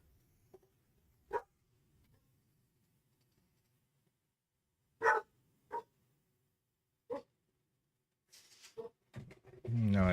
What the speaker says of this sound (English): Charlie's barking.